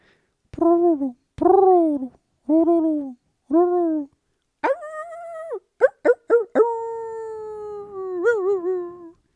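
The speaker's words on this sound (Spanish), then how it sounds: "Los lobos aullaban." A series of howls in the open: several short, falling wails, then longer sustained howls with wavering pitch, clear and fairly close with silence between them.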